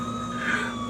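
A distant siren in a scary animation wails continuously, moderately loud, its tone steady with a slight swell in the middle, no voices present.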